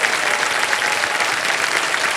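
A studio audience applauds on a television quiz show, with loud, sustained clapping from many hands filling the space evenly from start to finish.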